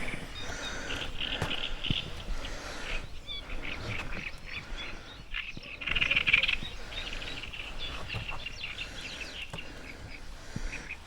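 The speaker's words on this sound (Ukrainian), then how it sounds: "Стільки тут пташок таких живе в цьому камиші." Small birds calling and chirping from a reed bed beside a meadow path, a scattered chorus of high calls at moderate distance over a soft outdoor background, with a brief livelier flurry partway through.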